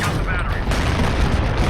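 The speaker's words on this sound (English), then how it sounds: "it's a big explosion, you only have to hit once" A rocket battery blows up in a Battlefield 3 campaign mission, a loud, dense blast with crackling debris and rumbling low booms that stay heavy and sustained, with chatter partly mixed underneath.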